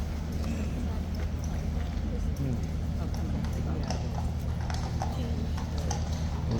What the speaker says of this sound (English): So that horse is happy, leisurely strolling into the box